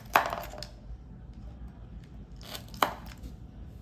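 A knife cuts through drumstick (sojne data) vegetable pieces, giving two crisp, close chopping knocks spaced a couple of seconds apart against a quiet kitchen background.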